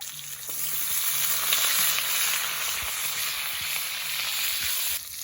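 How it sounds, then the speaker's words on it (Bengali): Potatoes frying in hot oil in a kadai, just after eggplant was fried in it, make a loud, steady sizzle that holds evenly and then cuts off abruptly near the end. "আলুগুলো লাল করে ভেজে নেব।"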